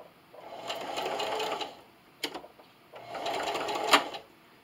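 A household sewing machine runs a straight stitch at 2.5 length with a short backstitch, two bursts of steady mechanical whirring separated by clicks of the lever, close and clear.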